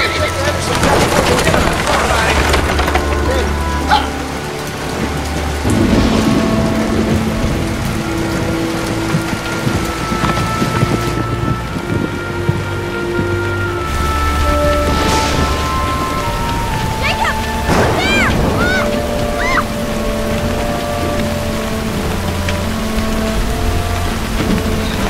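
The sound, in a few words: heavy rain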